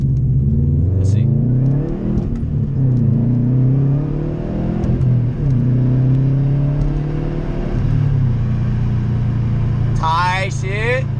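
A loud Subaru WRX exhaust rumbles close by as the engine revs up and down in repeated rising and falling sweeps, with brief voices near the end.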